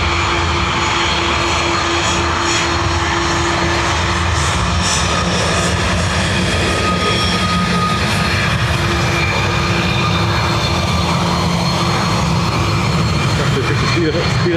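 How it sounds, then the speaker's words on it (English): A Ryanair jet airliner takes off from Dublin Airport bound for Milan, its engines giving a steady, loud roar throughout with a sustained low drone and a faint radio voice in the background. "Ryanair off to Milan."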